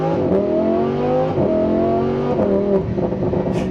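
A Lamborghini Huracan in Corsa mode accelerates hard under manual shifting, its engine note climbing steadily through the revs in a loud, close, continuous roar, with quick pitch drops marking rapid gear changes.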